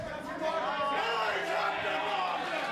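A wrestling crowd at the All Pro Wrestling Gym Wars event cheers and shouts in a steady, dense roar that swells after the first half second and keeps going, with yells rising out of the mass.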